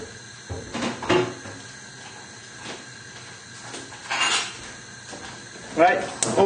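A cooking pan is lifted and set down in a home kitchen while lamb with sweet chilli sauce is made. Several metallic clanks and knocks come at irregular moments, close and moderately loud, mixed with a person talking.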